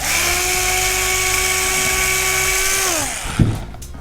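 A power drill whines steadily while boring holes through a 480mm quadcopter frame through a bit guide, then winds down, with a clack as the drill is set down.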